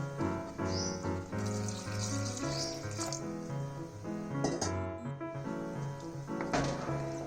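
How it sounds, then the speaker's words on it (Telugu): Water streams steadily into a pan for white sauce pasta, with sugar and butter already in it. The pour is close and continuous for several seconds, with light splashing and no talking. "ఇప్పుడు కొంచెం వాటర్ వేసుకోవాలి."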